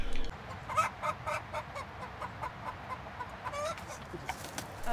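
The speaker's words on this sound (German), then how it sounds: "ein paar Legehühner haben wir." Laying hens cluck on an organic, certified vegetable and potato farm with a mobile henhouse. Many overlapping clucks and short calls come at a busy, moderate level over a low background rumble, with no voices.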